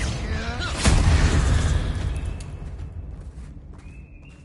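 A Confringo fire spell explosion in the video game Hogwarts Legacy, one sharp loud blast with a deep boom that rumbles and fades over a few seconds.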